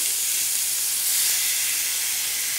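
Steak sears in a hot pan alongside zucchini slices, giving a loud, steady, close sizzling hiss that holds unchanged throughout.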